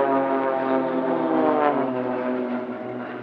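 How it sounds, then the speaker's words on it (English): Blades aerobatic team aircraft passing overhead at an airshow, a steady loud droning engine roar with layered harmonic tones that fades slightly toward the end, no voices. "classic Blades manoeuvre now, this is Crazy, the solo pilot chasing them down just out of shot."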